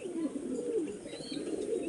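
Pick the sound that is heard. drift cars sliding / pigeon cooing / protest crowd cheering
pigeon cooing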